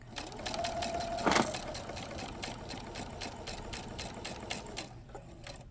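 A sewing machine stitches bias facing around a garment neckline. The needle hammers out a fast, even, close-up rhythm that runs steadily throughout and eases off at the very end.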